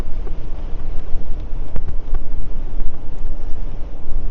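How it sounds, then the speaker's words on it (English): Strong wind blowing outdoors on a windy day, buffeting the microphone with a loud, continuous rumble and gusty surges that last throughout, and no voices heard. "it's a really windy day today"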